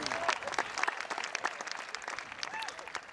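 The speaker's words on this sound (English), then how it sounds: "They deserve a big round of applause." A graduation crowd gives a round of applause, a dense burst of many hands clapping at once with a few whoops, loud throughout the short stretch.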